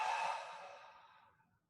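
A long, soft breath out during a guided mindfulness and movement exercise, breathy and airy, fading steadily over under two seconds and heard alone without talk.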